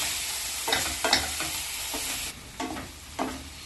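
Deep-fried food for a Mexican burrito bowl stirred and heated in a pan, a soft continuous sizzle broken by a few scraping strokes of a spatula, with no talk.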